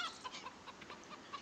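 Chickens on a farm in the Farming Simulator 2013 video game cluck in short, repeated bursts, close and fairly quiet, with no talk over them.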